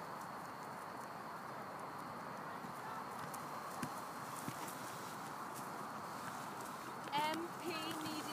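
Horse cantering in a dressage arena, soft rhythmic hoofbeats on footing thudding steadily in the background, with a voice speaking briefly near the end.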